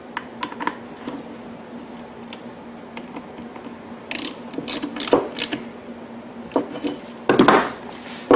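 Ratchet clicks spinning down 7mm bolts while a Powerhorse 3500 generator's extended run time fuel kit is bolted back together, short bursts of close, sharp metallic ratcheting separated by pauses over a low steady hum.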